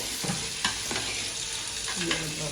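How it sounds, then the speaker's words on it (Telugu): Prawn biryani with rice is stirred in a pot over steady frying sizzle, with a few soft scraping strokes and light knocks of the spoon, close and without speech. "బాగా కలుపుకోవాలి"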